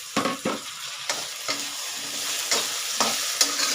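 Diced potato pieces are tossed and stirred in a hot pan for a mixed-vegetable dry masala, with a low sizzle broken by sharp, irregular scraping strokes of the spoon, close and clear with no talking.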